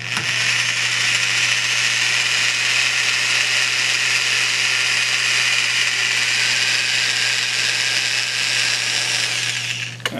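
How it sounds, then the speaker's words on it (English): A power drill with a small metal bit bores holes for a DIY tripod extension arm, a steady loud whirring grind lasting the whole stretch without pause. "and then drill"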